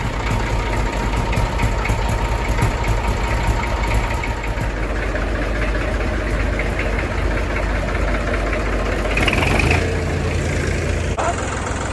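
A Massey Ferguson 35X tractor engine idles close by, a loud, steady low diesel chug with a knocking rhythm that runs unbroken throughout, with a brief brighter mechanical rattle near the end.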